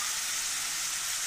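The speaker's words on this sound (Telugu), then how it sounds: "ఇదమ్మా బ్రౌన్ కలర్ వచ్చేంత వరకు వేయించుకోవాలి" Chopped onions frying in a pan with salt and chili for an egg fry, giving a steady, close, even sizzle that holds unbroken throughout with no talking.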